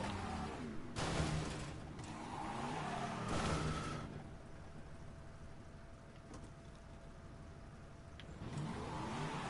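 Car engine revving and tires skidding in Resident Evil VII, a loud engine roar and screech up front that settles into a lower idling hum before rising again at the end.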